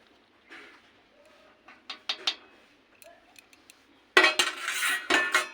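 A spoon clinks and scrapes against a pot as ghee and garam masala powder are stirred into mung bean and cauliflower ghonto, with scattered metallic taps followed by a louder burst of scraping and clattering near the end.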